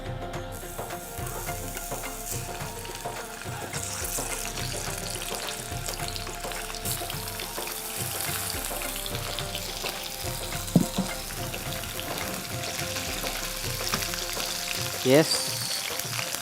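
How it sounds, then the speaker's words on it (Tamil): Paneer cottage cheese slices frying in an oiled pan, with a steady close sizzle and faint kitchen background, a couple of small knocks, and a voice speaking briefly. "இந்த cottage cheese வந்து நல்ல ஒரு பேனில் வந்து லே பண்ணிட்டோம், ஆயில் போட்டிருக்கோம்."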